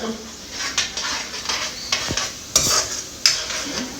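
Cloves and cardamom pods dry frying in a little oil in a pan for a keema curry, with a low sizzle under repeated metallic spoon scrapes and taps against the pan, close and fairly loud.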